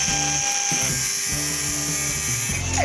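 A battery-powered cordless drill spinning a hole saw through metal on a custom aluminum-bodied supercar project, a steady loud whirring grind that runs continuously with brief dips in pitch as the bit bogs under load.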